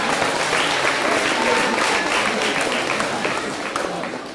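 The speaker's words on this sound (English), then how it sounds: "So give yourselves a clap, please." An audience at a high school talent show final claps in a full, continuous wash that tapers off slightly toward the end, with no voices over it.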